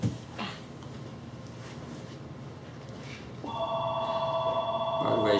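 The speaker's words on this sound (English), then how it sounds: "you better answer that phone" A telephone rings in a room, a steady electronic ring starting partway through and continuing loudly to the end over low background noise.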